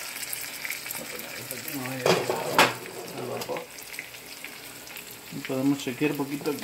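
Breaded fish fillets fry in a pan, a soft crackle and sizzle beneath someone speaking Spanish, with louder bursts of spattering as the fillets are checked and moved.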